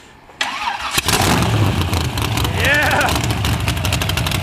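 The 700 hp engine of a 1915 Ford T-Bucket cranks and catches with a sharp burst, then settles into a loud, rough, close idle, with a voice cheering over it.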